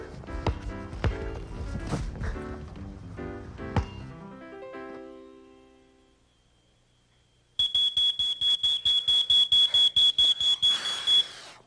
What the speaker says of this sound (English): A smoke alarm can save your life.